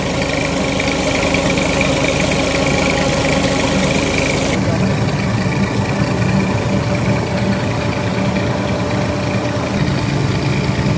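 A tractor drives a kolhu mustard oil press through a turning shaft, making a loud, unbroken engine drone with vibrating mechanical hum. People talk over it at times.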